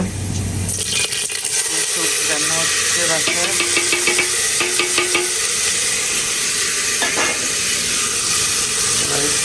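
Lentils are added to a hot pan of vegetables and give off a continuous loud sizzle and hiss, with light metallic clinks from stirring. A person talks over the frying throughout.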